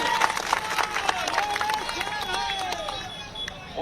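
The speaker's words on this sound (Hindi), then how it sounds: "बोलो जोरदार ताली बजा" Large crowd at a political road show in Damua, Chhindwara, applauding and cheering continuously, a dense steady roar of clapping and voices with whistles or tonal sounds sweeping through.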